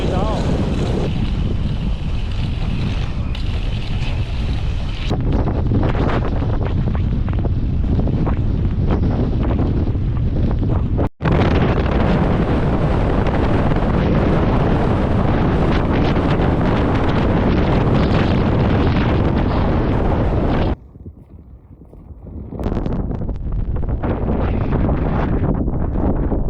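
Strong gusting wind on the Kungsleden trail roars and buffets the microphone almost without pause, loud and close, briefly dropping off near the end before returning.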